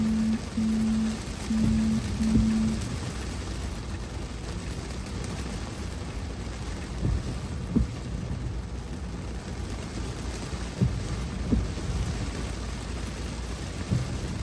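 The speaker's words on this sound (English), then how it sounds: "it started pouring down rain" Heavy rain pours steadily around a Tesla car parked outside a restaurant, a dense broadband wash with low rumbling beneath and a few sharper drops or knocks standing out, with no one talking.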